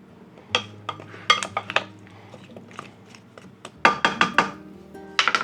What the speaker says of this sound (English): I'm just going to get a spoon and mix it up